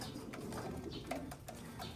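Soft, low cooing of racing pigeons repeats in a loose rhythm over a faint background hum, close but quiet.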